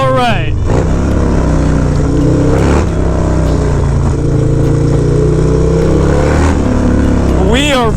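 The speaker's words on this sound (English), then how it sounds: "Man, is this bike loud." A loud motorcycle engine rumbles and revs close by while riding in Brooklyn, with pitch rising and falling across several revs and someone talking over it.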